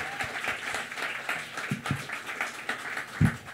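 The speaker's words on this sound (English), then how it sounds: "Another round of applause for Sammy Smith, everybody." A memorial gathering's audience applauds, a moderate, fairly distant patter of many hands with a few sharper individual claps standing out, continuing steadily throughout.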